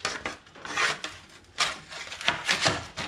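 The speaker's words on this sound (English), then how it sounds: "Whack this in the vise, get the die grinder onto it." A die grinder cutting a slot in metal clamped in a vise, heard as several close, harsh grinding bursts of uneven length with brief gaps between them.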